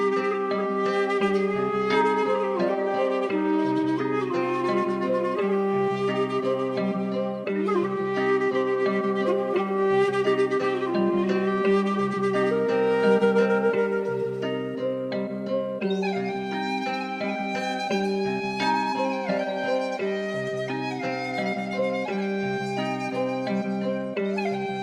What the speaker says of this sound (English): And the final sample sounds like this.